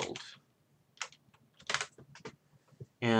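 Keys on a TI-83 graphing calculator being pressed, a sparse series of crisp plastic clicks with irregular spacing, close up and alone.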